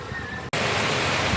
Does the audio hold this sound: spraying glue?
no